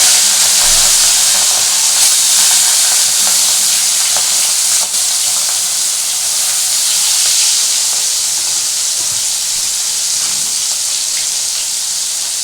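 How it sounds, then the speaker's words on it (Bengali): Prawns fry in a hot pan with loud, close, continuous sizzling and hissing that stays steady and dense throughout, with no voices over it. "এই চিংড়ি মাছগুলোকে আমি আগে একটু ভেজে তুলে রাখবো"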